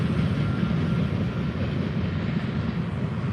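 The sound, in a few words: train cars passing by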